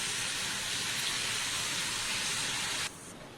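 Ivy gourd (tondli) with mustard seeds sizzling in a pan, a steady close hiss and crackle of frying that runs loud and unbroken, then drops noticeably quieter near the end.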